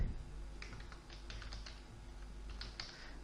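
Computer keyboard typing, a quick irregular run of light clicky keystrokes close by and fairly quiet, with a low steady hum underneath.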